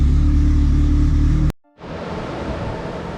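A rear-wheel-drive Honda EF Civic engine running rich idles with a loud, close, throbbing rumble, cuts out abruptly for a moment, then comes back as a steadier, hissier running drone.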